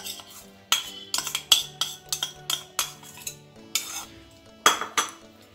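A spoon stirs green chili and garlic paste into ground soaked chana dal in a bowl, giving a steady run of close, bright metallic clinks and scrapes in uneven bursts, with no talking.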